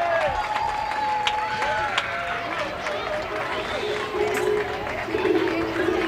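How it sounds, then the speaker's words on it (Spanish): Crowd applause and cheering at a romería for San Vicente Paúl, set among busy festival noise, with whistles or tonal sounds and a voice talking over the crowd. "¡Vamos arriba ese aplauso!"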